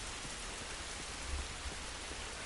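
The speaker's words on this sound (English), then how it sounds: "it's raining hella hard" Heavy rain in the video game The Last of Us, a steady dense hiss of downpour with a few soft low thumps, no voices.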